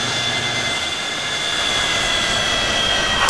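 Boeing 737-200 jet engines spooling at takeoff in the flight simulator FS2004, a loud steady roar with a high whine running through it and no talking.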